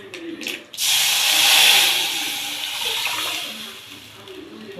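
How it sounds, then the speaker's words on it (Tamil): Hot oil tempering with curry leaves poured into a stone-ground sundakkai chutney, setting off a sudden loud sizzling hiss that fades slowly over a few seconds, with a voice speaking briefly before it. "இதை வந்து தாளிச்சு அப்படியே ஊற்றணும்."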